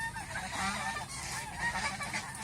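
Honking ducks on a farm where a flock is raised, a dense, continuous chorus of loud, overlapping calls close by with no pause.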